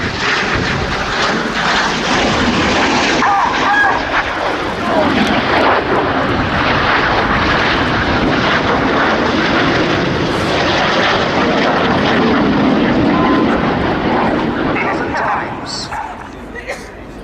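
Red Arrows display jets at RIAT 2016 roar overhead in a loud, continuous engine wash that swells and fades slowly, with a crowd's chatter and a dog bark faintly mixed in.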